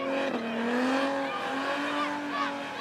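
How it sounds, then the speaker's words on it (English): A supercharged six-cylinder car at an outdoor burnout event in Australia, held at steady high revs with a sustained engine whine that rises and falls slightly, loud and dense with crowd and ambient noise beneath. "All the revs going away here for Stephen Marshall's Frankenstein."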